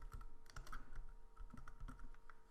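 Quick, steady keystrokes on a computer keyboard as a short message is typed into a terminal, close and clear with no talking.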